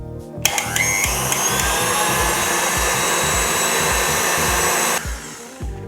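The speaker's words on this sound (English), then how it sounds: "Then we're gonna turn the mixer back on high for about a minute and just watch the magic happen." An electric stand mixer whips coffee Russian buttercream on high speed, a loud, steady motor whine with a rhythmic churning throb that runs for about five seconds before it shuts off.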